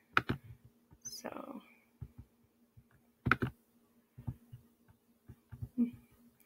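Computer keyboard keys typed in short irregular bursts of soft clicks, fairly quiet and close, with a low steady hum in the background and no talking.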